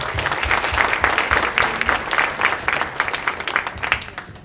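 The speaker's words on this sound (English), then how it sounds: "Please give her one more round of applause." A crowd applauds steadily, a dense patter of many hands clapping at once, sustained and fairly loud throughout.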